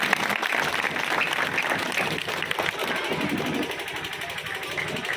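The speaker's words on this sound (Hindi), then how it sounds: "आप लोग ताली बजा करके स्वागत करें।" Crowd applause at an outdoor panchayat welcome event with a health minister as chief guest, steady dense clapping throughout, mixed with crowd noise and voices.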